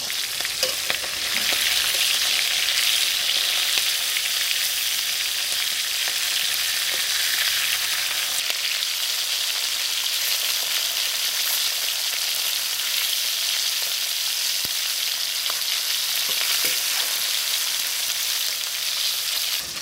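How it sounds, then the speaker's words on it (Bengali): Ritha river fish fries in hot oil in a village kitchen, giving a loud, dense, continuous hiss and crackle that stays steady throughout with faint occasional spatters. "আমার মাছ ভাজা হয়ে গেছে, নামাই নেব।"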